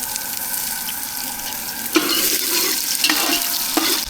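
Onion and garlic fry in oil in a pot on a gas stove on an island, hissing steadily, with louder bursts of sizzle as the food is stirred. No one speaks.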